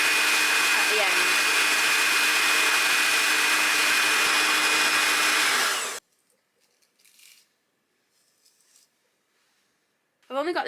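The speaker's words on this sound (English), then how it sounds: "take the bristle brush, put the hairdryer on it, and keep turning" Hair dryer blowing steadily and loudly while hair is worked around a bristle brush, a constant close whir that cuts off abruptly partway through, followed by near silence with faint rustling and a brief voice at the end.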